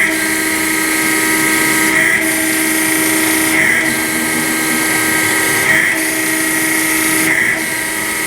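A Harig/Bridgeport 618 E-Z Surf three-axis CNC surface grinder runs a pass with a loud steady whine and hiss, and the tone shifts briefly at regular intervals as the table reverses.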